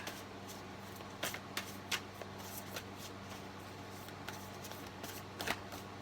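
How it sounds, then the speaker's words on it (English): Oversized tarot cards are shuffled by hand, giving soft riffling and papery flicks with a few sharper slaps at irregular intervals, close but quiet over a low background hum. "shuffling these cards, because they're huge"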